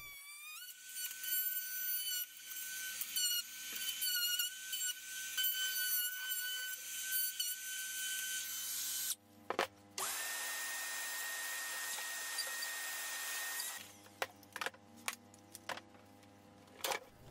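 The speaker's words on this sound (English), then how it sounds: "I set the router bit to cut to the required depth, which is the thickness of the driver flange." A router cuts a rebate into a wooden speaker baffle, a loud steady high-pitched whine that runs continuously, breaks off briefly near the middle, then resumes and gives way to a few sharp bursts.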